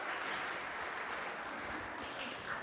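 Steady, moderately distant clapping from a wedding crowd fills the whole stretch at an even level, with no voices standing out.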